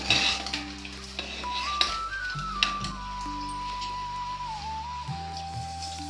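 Tempering spices crackle and sizzle in hot oil for a Telugu dal with bachchali (Malabar spinach), a steady frying hiss with faint utensil clinks and a low tonal hum running beneath.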